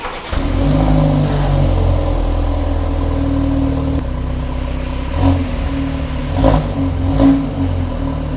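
A BMW 3-series G20 runs through its twin real exhaust pipes, settling into a steady idle rumble with a few short revs rising near the end, with no talking.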